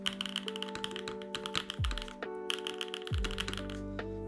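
Typing on a mechanical keyboard with pre-lubed switches and PBT keycaps, a close, quiet series of clacky keystrokes in irregular bursts, with a few deeper thocks from heavier presses such as the spacebar.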